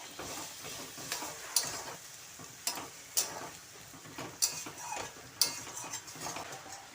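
Spices stir-fried in a pan with a little hot water and sugar for a pumpkin and soybean curry, a soft steady sizzle broken by repeated sharp scrapes and clinks of a spatula against the pan at a slow, regular rhythm, no talking.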